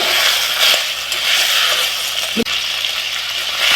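Mixed vegetables coated in ginger-garlic paste fry over a medium flame with a loud, continuous hissing sizzle close by and one brief knock of a utensil.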